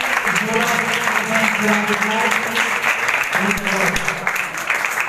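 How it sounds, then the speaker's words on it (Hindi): Applause during a church service at a Sukkot Feast of Tabernacles gathering, a steady dense wash of clapping from a congregation lasting throughout, with voices mixed underneath. "हम सारा चर्च एक दूसरे के लिए आप सबके लिए मिलकर जोरदार तालियां बजाएं।"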